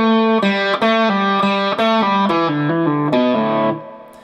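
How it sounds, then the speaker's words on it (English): Heavily distorted electric guitar plays the solo lick slowly, a string of distinct picked notes stepping downward in pitch, loud and close, ending on a fading sustained note. "playing through that entire lick one more time, real slow, it should sound like this"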